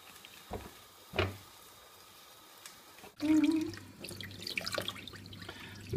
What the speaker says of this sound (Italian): Lavare le seppie sotto l'acqua corrente